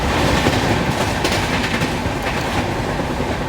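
The Darshan Express passenger train rattles along the rails with a loud, close clickety-clack of wheels over joints and a rumbling carriage underneath, steady throughout.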